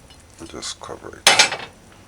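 A lid clanks onto a pot of simmering curried steamed fish with okra: a loud metallic clatter after softer utensil clinks and shuffling, close and brief.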